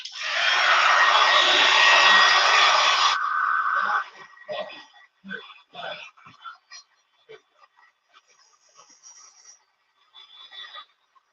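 A hair dryer blows loud and close for about four seconds, drying a freshly painted DIY patriotic sign, then cuts off, leaving quiet whispery speech and small handling noises.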